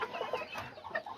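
Azteca roosters and hens cluck in a busy backyard flock, with overlapping short clucks and soft calls, close to the microphone and steady through the moment.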